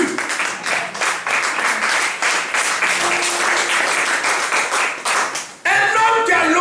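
A church congregation applauds together, making dense, sustained clapping that fills the space. The clapping breaks off briefly near the end and then resumes, with a voice faintly present beneath it.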